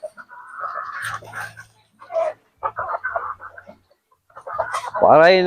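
Fighting chickens cluck and a rooster crows loudly near the end in a backyard coop, with scattered bird calls and brief bursts of nearby activity.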